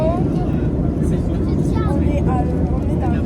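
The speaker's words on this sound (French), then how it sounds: "on est dans l'avion maintenant." Steady, loud low roar of an airplane cabin in flight, constant engine and air rumble, with people talking over it.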